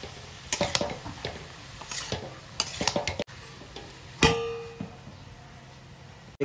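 Cabbage and mixed vegetables being stirred in a pan for a Bengali vegetable chop filling: a spoon scrapes and clinks against the metal in a series of sharp, irregular taps, one louder knock near the end, with faint background hiss.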